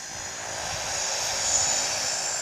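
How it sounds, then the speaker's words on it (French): A seaplane engine drones steadily at moderate distance, a sustained airy roar with a bright whine, as floatplanes land and take off over the water in the Maldives. "Chaque jour, ils assistent à un balai incessant d'amérissage et de décollage d'hydravions."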